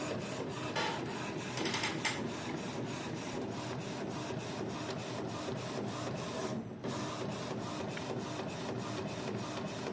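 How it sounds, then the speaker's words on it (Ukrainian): An Epson L3256 inkjet printer prints a photo steadily for the whole stretch, a continuous mechanical whir and rasp with rhythmic pulses and a brief louder burst near the start. "Ось так працює принтер. З такою швидкістю він друкує."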